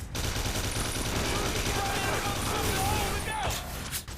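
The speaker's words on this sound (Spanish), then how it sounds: "había un juego llamado 50 Cent Bulletproof donde los jugadores podían controlar al propio rapero enfrentándose a sus enemigos de la mafia a balazos" Gunfire from the 50 Cent Bulletproof video game, rapid continuous bursts of shots and clatter at high level with a voice talking over it throughout.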